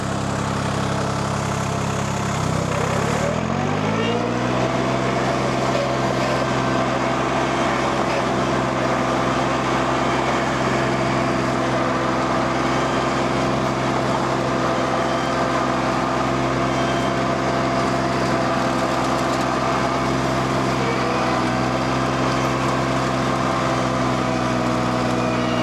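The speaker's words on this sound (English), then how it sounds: "Just engage your brush hog." A mini skid steer's engine revs up as its brush hog engages, then settles into a loud, steady drone as it cuts through overgrown brush.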